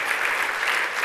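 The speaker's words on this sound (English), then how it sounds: "let's give another round of applause for our rock star rabbi" A brunch audience gives a round of applause for a rabbi, a brief, steady burst of many hands clapping together, full and even.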